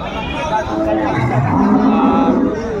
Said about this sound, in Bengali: বেশ সুন্দর গরুগুলো কালেকশন করছে আমাদের আলমগীর ভাই।